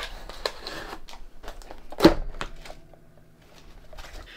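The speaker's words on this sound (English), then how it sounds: "It is covered in tape, so got a lot of tape to actually cut here." Packing tape being cut open on a lightsaber shipping box, with crinkly scraping, tearing and tapping bursts and one sharp loud rip at close range.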